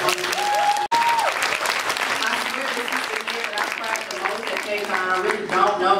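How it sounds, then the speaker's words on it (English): An audience at a K-pop fan panel for fans over 30 at KCON 2017 Los Angeles breaks into sustained applause, dense clapping filling the room for several seconds, with voices and cheers mixed in. "So round of applause for that."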